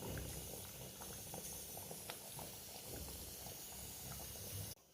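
Sambar with ground coconut paste bubbling in a pot, a steady close simmering hiss with scattered pops and small bursts, continuous and fairly loud with no talk, cutting off abruptly at the very end.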